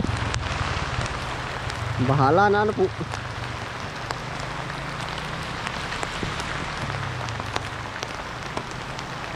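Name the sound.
rain falling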